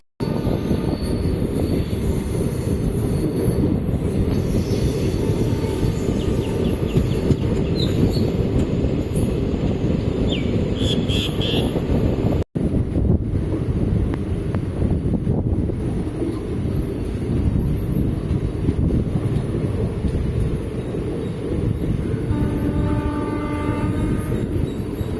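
A passenger train rolls along the Karaikal–Peralam line via Thirunallar in Tamil Nadu, heard from on board as a continuous loud rumble with wind rush, steady throughout.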